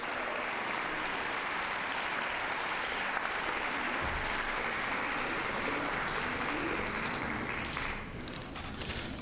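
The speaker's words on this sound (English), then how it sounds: "Now let's give our Earth and Environmental Science winners a round of applause" A round of applause for award winners at a junior science fair ceremony: dense, sustained clapping from a large audience, even and continuous, easing slightly toward the end.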